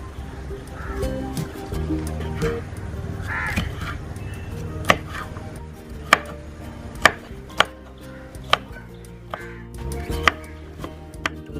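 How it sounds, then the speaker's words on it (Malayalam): Multicoloured capsicum chopped into small pieces on a board, a series of sharp, close knife knocks at an irregular pace over a low, busy background. "നമ്മളിത് ചെറിയ കഷ്ണങ്ങളായിട്ട് നുറുക്കണം."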